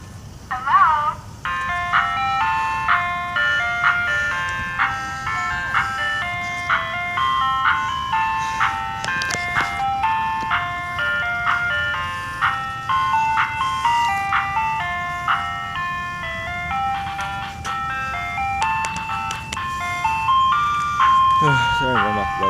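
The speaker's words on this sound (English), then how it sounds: "And that's the ice cream truck plays the picnic song." An ice cream truck's tinkling chime loops the picnic song while passing a house on a Saturday afternoon, loud and near, its bright repeated melody running steadily with a low motor rumble underneath.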